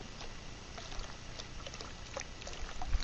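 Water from an artesian well in the woods pours and trickles in a steady, faint, continuous rush with no voices.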